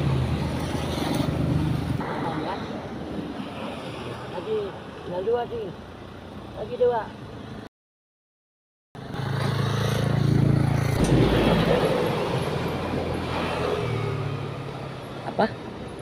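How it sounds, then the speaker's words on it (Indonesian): Cars pass over a yellow bridge on a deadly bend, engines rising and fading with a brief gap of silence, while people talk over the traffic. "saya lagi ngonten mobil lewat itu di jembatan."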